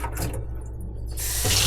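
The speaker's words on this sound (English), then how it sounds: "pre-blast it with water" Tap water runs into a container for a fertilizer mix for peppers and tomatoes, a steady close hiss that pauses briefly and then surges back louder.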